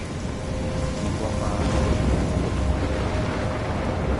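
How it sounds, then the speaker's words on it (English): A steady roar of rain and wind with a low rumble of thunder through a thunderstorm, continuous and fairly loud, with no distinct strikes and no voices. "I'm trapped in a storm."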